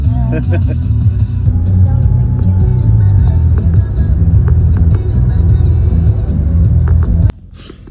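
Steady low engine rumble and road noise fill the cabin of a car on the road between Samarkand and Dushanbe, loud and continuous, with faint voices in the background, cutting off abruptly near the end.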